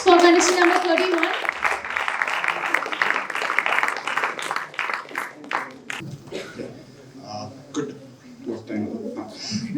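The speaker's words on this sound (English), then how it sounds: "Round of applause for contestant number 31." An audience at a morning talk session applauds contestant number 31. The steady clapping swells after an announcer's voice, then thins as a speaker starts talking over it.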